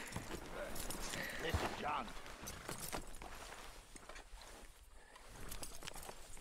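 Horse hooves clip-clop in Red Dead, soft rhythmic steps in the background beneath close conversational talk and scattered game sounds.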